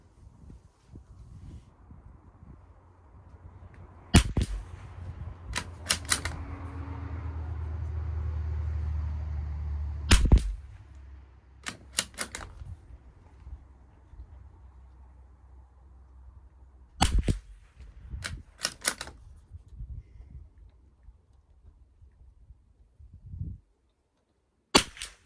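A Savage MKII BTV rifle firing CCI SV subsonic ammunition: sharp, dry cracks spaced out over the stretch, some in quick pairs, with a low rumble of wind or traffic between shots.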